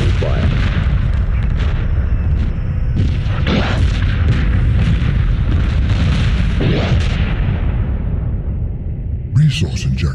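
Space battle weapons fire in Homeworld Remastered, a Hiigaran fleet fighting on expert mode: a loud, dense, continuous barrage of booming, rumbling blasts with sharper bursts layered through it, easing slightly near the end.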